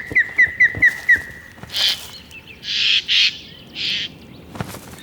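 Jays raise harsh alarm calls while mobbing ospreys: a quick run of five sharp whistled notes, then several loud, raspy screeches in separate bursts, close and clear.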